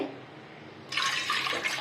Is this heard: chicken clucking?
no